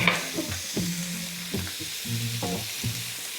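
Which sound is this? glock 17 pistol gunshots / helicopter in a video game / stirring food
stirring food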